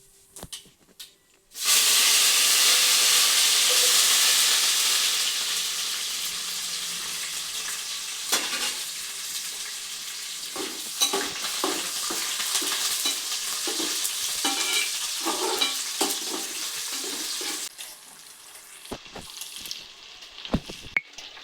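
Fenugreek seeds dropped into hot oil for a tamarind fish curry burst into a loud, sudden hiss that settles into a steady sizzle, broken by intermittent spoon scrapes and stirring clatter near the end, with no talking.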